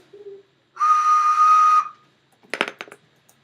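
A whistle is blown once in a long, loud, steady shrill tone lasting about a second, preceded by a faint brief note and followed by a few scattered clattering sounds.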